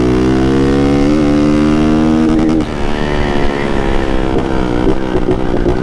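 A motorcycle riding at night, its engine droning loud and steady with a rising whine, then the tone shifts and roughens as it carries on close by.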